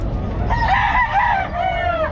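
Roosters at a pet market in Bocaue crow loudly and close, one long drawn-out call followed by another starting near the end, over a busy background murmur.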